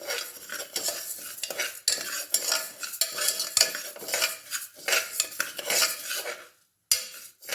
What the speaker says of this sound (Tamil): கால் கிலோ பச்சரிசிக்கு 100 கிராம் பச்சை பயிரை லேசாக சும்மா வாசனை வர வரைக்கும் வறுக்கணும்